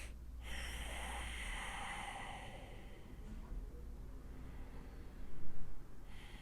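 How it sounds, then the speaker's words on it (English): Slow nasal breaths during a relaxing yoga practice, drawn in and out through the nose with a soft, airy hiss, close to the mic, one fuller exhale standing out near the end. "It's breathing in and out through our nose, making sounds in our heads."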